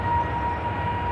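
Airbus A380 jet engines run up to full power during a ground test, a steady, dense roar with a sustained whine, continuous and loud throughout.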